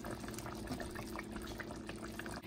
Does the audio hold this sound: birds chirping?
no